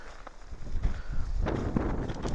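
Gusty wind buffets an open desert campsite in Quartzsite, Arizona, rumbling low and unevenly with a few rustling bursts and no voices.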